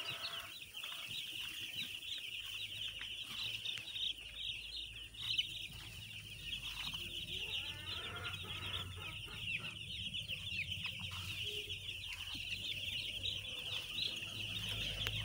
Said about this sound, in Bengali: তুলে মুরগির বাচ্চা গাইস এই